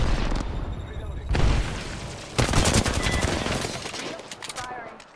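Automatic gunfire in the video game Apex Legends, loud close bursts of rapid shots in several waves with booming impacts, tapering into scattered shots near the end.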